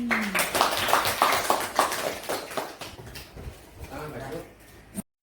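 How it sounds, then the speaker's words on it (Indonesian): A group clapping hands in an Indonesian classroom or gathering, a burst of sharp claps over the first three seconds that thins and fades, with voices underneath. "Tepuk tangan."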